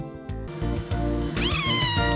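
A house cat meows once or twice, close and clear, with a rising, wavering cry partway through over a steady low background; no one speaks.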